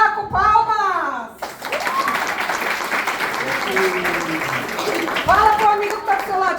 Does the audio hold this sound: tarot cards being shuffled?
no